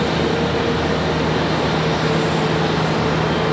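A PSA Airlines passenger jet on a steep, short approach into Charlotte Douglas airport gives a steady, broadband engine roar with a low hum, constant and fairly loud throughout with no voices.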